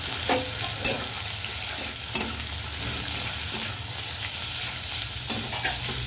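Taro stolons sizzling in a pan with oil, a dense, even frying hiss broken by regular stirring scrapes and light clacks of the spatula, close and without talk.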